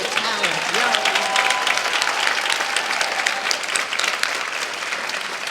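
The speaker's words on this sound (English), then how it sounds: "I just want to give us all an opportunity to applaud one more time" Warm, steady audience applause after an arts performance, full and continuous throughout, with faint voices and a brief whistle-like tone mixed into the clapping.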